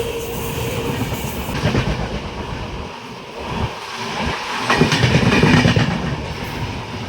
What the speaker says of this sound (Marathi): कुठली तरी ट्रेन चालली आहे